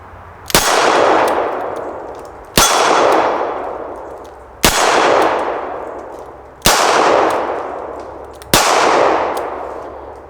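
Five .38 Special rounds hit a steel plate at 7 yards: five sharp, loud cracks about two seconds apart, each followed by a long, fading metallic ring. No one talks.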